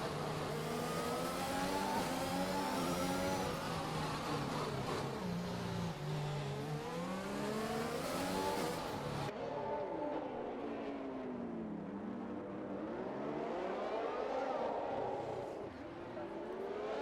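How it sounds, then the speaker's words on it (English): A Formula 1 car engine in a racing video game screams under full throttle at Monaco, a loud, continuous high-pitched whine that rises and falls through the gears, with race commentary faintly over it. "Going to get DRS down the straight. Foot to the floor once again for Josh Dawson"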